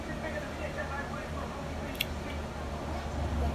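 Scissors make a single quick snip while trimming fly-tying material for a Dean River Tiger fly, with a low room rumble underneath.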